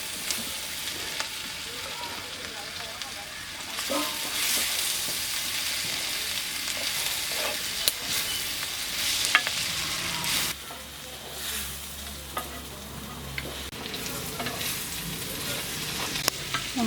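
Sliced onions and chopped coconut sauté in a hot pan for a clam fry, a steady close sizzle with occasional scrapes and stirs throughout, briefly louder and more crackly near the middle.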